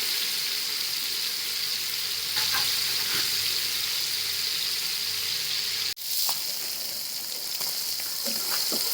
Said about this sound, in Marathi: झाले पनीर फ्राय करून आता काढून घेते